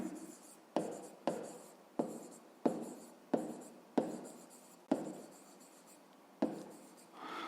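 Pen strokes scratch across paper while a maths exercise is written out, a steady series of about nine separate strokes, each starting sharply and trailing off, close and quiet with no talking.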